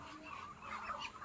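Domestic ducks on a small farm of about 118 birds, giving a continuous mix of nasal calls and quacks from the flock at moderate distance, steady throughout with no talking.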